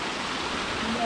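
A mountain stream and small waterfall on a hiking path give a steady broadband rush of water, close and constant, with a faint voice barely showing through.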